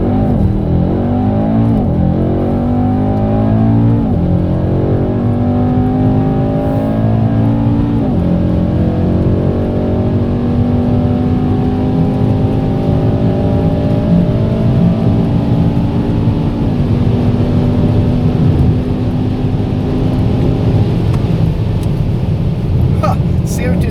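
A Mercedes-AMG E 63 S 4MATIC+ Estate accelerates hard from a launch-control start, its engine climbing through repeated rising gear pulls with brief shift drops. Loud and close inside the cabin, with people talking over it.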